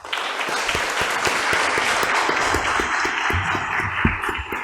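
A crowd applauds steadily at a book presentation in an auditorium, dense clapping filling the room throughout without pause.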